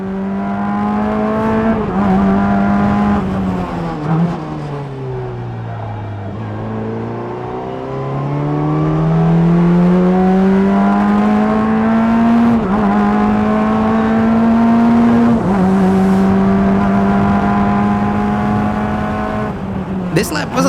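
An open-wheel Formula-style race car, rented at a $200 experience day, works through a lap on track, its engine note climbing and dipping steadily through gear changes and corners, with talk running over it throughout.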